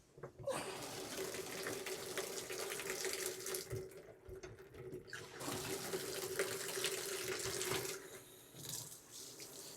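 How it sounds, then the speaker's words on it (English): Water runs steadily from an RV faucet while the system is flushed of pink antifreeze during de-winterizing, a continuous close splashing stream that briefly stops and restarts near the middle and dips again toward the end. "we can go to each hot and cold faucet in the unit and run until the pink turns to clear water on each faucet and each fixture"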